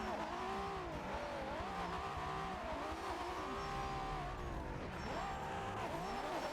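A Nissan R34 drift car at a Nürburgring drift event runs steady, loud engine tone that swoops up and down in pitch, sagging and bogging in the middle before climbing again, with tire noise underneath.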